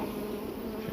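A dense, continuous hum of a honeybee swarm at a hive buzzing close by, steady and loud for the whole moment.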